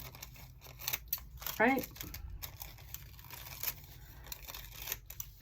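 Scissors snip a paper flower out of a sheet for a vintage-style planner spread, giving a short crisp cutting and rustle near the middle amid steady paper handling, with a person speaking briefly.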